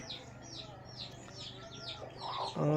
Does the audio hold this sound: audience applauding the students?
no